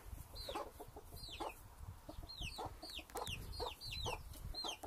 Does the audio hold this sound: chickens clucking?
yes